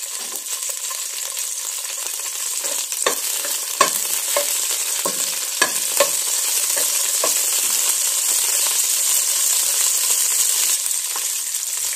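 Cinnamon, cloves, star anise and lemongrass sauté in hot oil with a steady close sizzle, broken by scattered clinks and scrapes of a utensil stirring against the pan. No one speaks.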